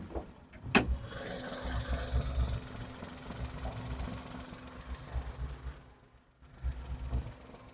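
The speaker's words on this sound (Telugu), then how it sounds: "చూడండి, ఇంజన్ చాలా సైలెంట్గా ఉంది." A Maruti Alto K10 engine idles smoothly and quietly as a steady low hum, heard close up with a sharp click near the start and a brief dip later.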